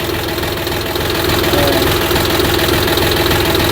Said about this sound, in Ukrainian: Зараз тракторець хай ще трошки попрацює, бо довго не працював